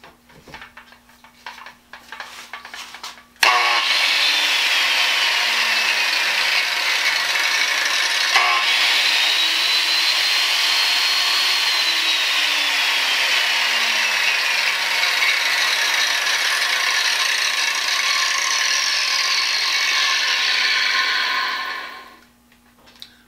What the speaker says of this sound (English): This is a 9-inch Hitachi grinder.